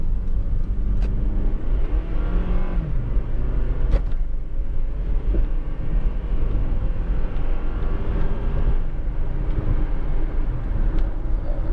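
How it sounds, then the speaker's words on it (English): A Honda CR-V 2.0 i-VTEC engine drones steadily while accelerating along a rough road, low rumble throughout with occasional sharp jolts and rattles. "I'm just going to just push the engine a little bit harder"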